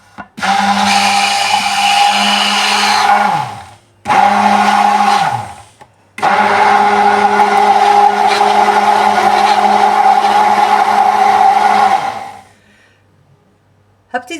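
A blender whirs loudly through an eggless mayonnaise mixture while oil is added, three bursts of steady high-pitched motor whine, the first two winding down quickly, the last running longest before stopping.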